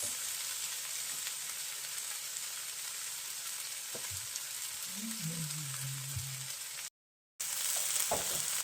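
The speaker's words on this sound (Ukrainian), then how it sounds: "заливаємо наші грибочки яйцями" Mushrooms fry in a pan with a steady close sizzle, then beaten eggs are poured in, a brief watery pour amid the crackle, with a short gap near the end.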